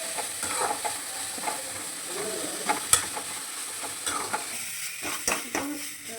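Vegetables sautéing with salt in a pan, a continuous close sizzle broken by repeated scraping and clinking stirs of a spoon against the metal, with a couple of sharper knocks.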